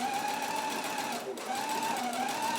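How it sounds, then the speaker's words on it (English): A sewing machine runs continuously, stitching a dress seam between two rows of gathering stitches. Its motor whines steadily and close, with a brief dip in speed midway. "we're going to sew right through the middle of those two rows of gathering stitches"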